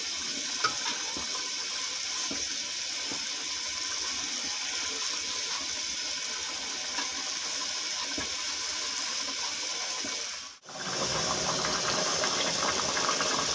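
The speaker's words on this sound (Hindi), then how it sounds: "इसको उबाल आने देते हैं।" Shaljam gosht, a turnip and mutton curry, bubbling steadily in a pot as it comes to a boil, a constant close hiss and simmer that cuts out briefly near the end and then resumes.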